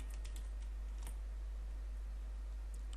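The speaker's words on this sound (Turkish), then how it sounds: "stop kelimesini yazıyorum" A few quick keystrokes tap on a computer keyboard, soft close clicks in a short burst over a steady low hum, then quieter.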